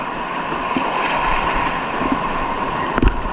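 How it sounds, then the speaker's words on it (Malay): Wind and large waves wash around a small fishing boat out at sea, a constant rushing roar broken by a few sharp knocks of water against the hull near the end, with no voices. "Mungkin karena cuaca berangin dan ombaknya pun besar kali hari ini"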